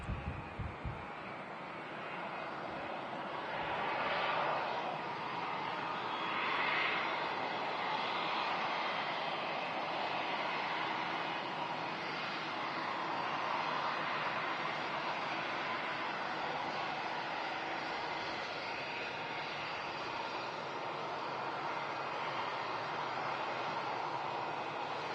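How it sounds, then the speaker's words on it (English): An airliner arriving from Orlando touches down on the runway at Manchester Airport, heard from a distance as a broad, steady roar of engines and rushing air that holds for the whole stretch, with no voices. "And touchdown from Orlando. 7-hour, 37-minute flight."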